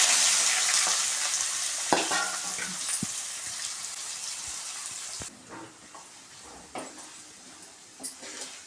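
Onions, green chillies, curry leaves and mustard seeds fry in hot oil for a chickpea curry, a loud close sizzle that gradually fades, punctuated by scattered sharp crackles and stirring clicks.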